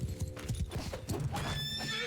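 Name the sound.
horse neighing and hooves in video game Mount & Blade II: Bannerlord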